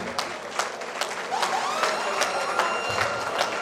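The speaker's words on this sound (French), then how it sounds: "applaudissez pour cette équipe" Crowd applause with scattered cheers and a whistle rings out at a tournament gala evening, a dense, sustained patter of many hands that stays lively throughout.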